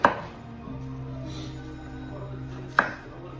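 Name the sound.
slicing jalapeño peppers and onions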